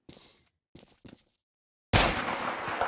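Gunfire in the video game Kuboom: a few soft clicks and taps, then a sudden loud, dense burst of shots that keeps going to the end, close and harsh, with no voice over it.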